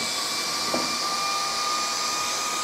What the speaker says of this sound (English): You turn on the fan first.